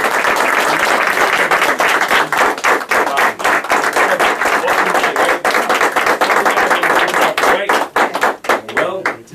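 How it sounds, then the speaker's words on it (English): Audience at a church gathering breaking into sustained applause, dense rapid clapping that stays loud and close, thinning briefly near the end before picking back up. "Can we please give another round of applause?"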